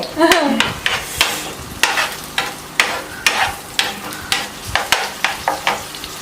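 Onion and ginger fry in a pan for a mutton roast, a steady sizzle broken by repeated scraping stirs that come at a loose, regular rhythm, close and fairly loud, with no voices.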